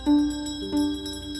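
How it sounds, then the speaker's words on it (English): A tiny bell chimes twice in a quiet setting, each clear ring lingering briefly before fading, with no voices over it. "It sounds like a little bell coming from the bottom of the box."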